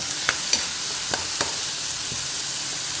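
Tomatoes and small shallots fry in hot oil for a prawn fry, a constant close sizzling hiss broken by a few light stirring taps, with no speech.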